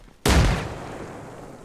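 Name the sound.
frag grenade exploding in video game Arma Reforger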